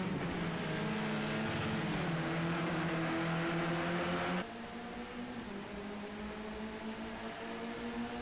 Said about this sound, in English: Let's have a quick lap of quietness and only the engine noise here from the roof of Scooby.